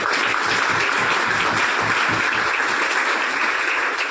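An audience at a Viksit Bharat 2047 college event claps loudly for student poster makers, a dense, steady burst of applause filling the whole few seconds.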